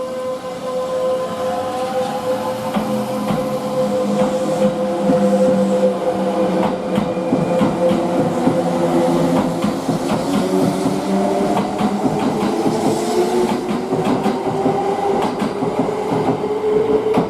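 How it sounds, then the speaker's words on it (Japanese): Kintetsu train passing through Nabari Station at speed: a loud, continuous rumble with rolling wheel clatter and drawn-out sliding tones, sustained throughout with no pause. "2番乗り場を電車が通過します"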